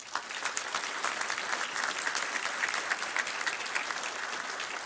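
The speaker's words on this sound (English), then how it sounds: "Please join me in a round of applause for these members of our community" A commencement ceremony crowd gives a sustained round of applause, thick overlapping clapping heard from some distance at a steady, moderate level.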